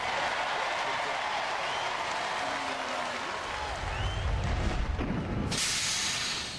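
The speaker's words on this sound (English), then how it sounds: "I think everybody should give you a nice round of applause" Audience applause at a Robot Wars US robot-combat event, a dense wash of clapping and crowd noise that holds steady throughout, with a brief low rumble and a hiss burst near the end.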